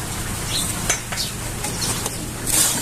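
A spoon stirs a sabudana and bhagar ladoo mixture with ghee in a pan, giving soft scraping and a few sharp metallic clinks against the pan, close and fairly loud.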